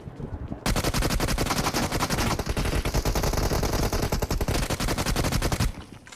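Rapid automatic gunfire in the mobile battle royale game BGMI, loud and close, a dense continuous burst of shots lasting several seconds before cutting off, with no talk over it.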